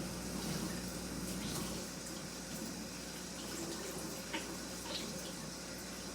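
Running water from a tap rinses makeup brushes at a sink, a steady close splashing flow that fills the whole moment with no talk over it.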